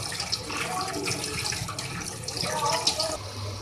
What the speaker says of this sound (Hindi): स्ट्रेन करने के बाद फिर इसे 1 मरतबा पानी से धो लें।